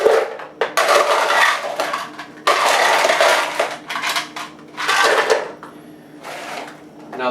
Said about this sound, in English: And about a cup and a half of ice.